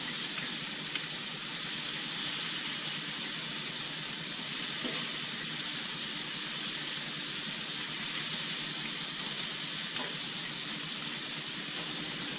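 Bacon frying in a pan, a steady bright sizzle and hiss holding constant throughout with faint pops scattered through it, no talking.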